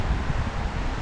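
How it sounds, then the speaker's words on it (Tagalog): Strong wind gusting at the seaside, a steady, close roar of broadband rumble buffeting the microphone throughout a brief moment, with no talking. "Medyo okay naman, malakas lang hangin."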